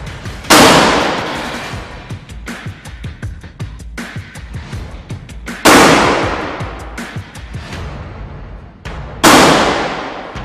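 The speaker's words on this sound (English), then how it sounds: "We fire 3 shots consecutively." Three loud, sharp gunshots are fired at an NIJ Level 4 standalone ballistic plate during a ballistic test, each a close blast with a long ringing decay, spaced several seconds apart over a steady rumbling background.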